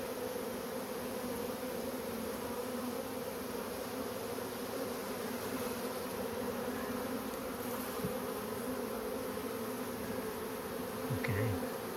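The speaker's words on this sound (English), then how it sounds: "Cannot find a good cluster of bees." Swarm of honey bees buzzing around tree branches, a continuous dense hum at steady level throughout, with no talking.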